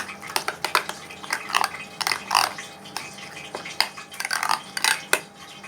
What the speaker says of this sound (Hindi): दही भी शामिल कर दूंगी मसाले में। इसे अच्छी तरह से मिक्स कर लें।